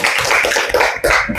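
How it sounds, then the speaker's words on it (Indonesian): Classroom applause for a group of students at an elementary school, a short burst of many hands clapping quickly and unevenly, close and loud. "Tepuk tangan untuk kelompok"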